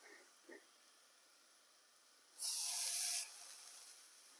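Spicy meatballs fry over high heat in a pan, a quiet steady background crackle that swells into a loud, bright burst of sizzling for under a second before easing back to a low hiss.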